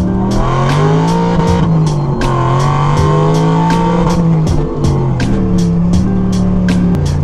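A Pontiac GTO accelerating hard through the gears, a loud, close engine roar climbing in pitch, dipping briefly at a shift and pulling again, with a steady rhythmic ticking layered over the engine.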